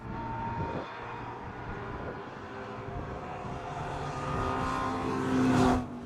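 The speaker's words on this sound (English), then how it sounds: "Just listening to the Ginetta. Listen, it sounds like gunfire going off. That car is very sickly." Ginetta race car running sickly at a Kirkistown race meeting, its misfiring engine popping like gunfire amid continuous circuit engine roar, swelling louder near the end as it passes close.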